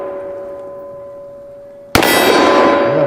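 Bullet strikes a steel cowboy silhouette target, giving one sudden loud metallic clang that rings on with a sustained tone after an earlier fading hum.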